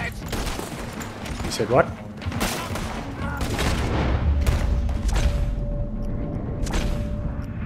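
Repeated gunfire from a shootout in the video game Red Dead Redemption 2, sharp shots and bursts recurring throughout amid game ambience, with a brief spoken line over it.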